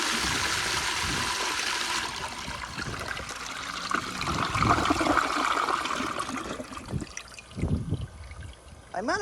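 A 1998 American Standard Spacesaver Cadet toilet on a flushometer valve flushes with a loud rushing hiss of water that builds, then drains down with gurgles and trickles, heard alone nearby.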